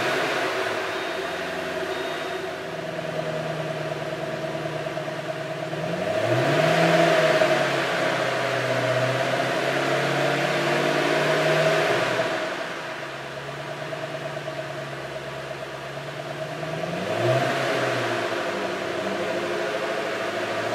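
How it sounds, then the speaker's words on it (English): A supercharged 2008 Ford Mustang Shelby GT500 V8 revs toward redline in repeated rising swells, steady engine drone between two loud climbs, close and with no talking. "the engine zings towards redline thanks to a lightweight dual-disc clutch."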